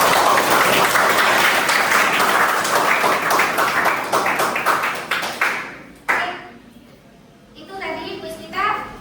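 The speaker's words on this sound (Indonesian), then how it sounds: "Kasih aplaus." A class bursts into applause during a lecture, with dense, loud clapping for several seconds that tapers off before voices and scattered taps follow.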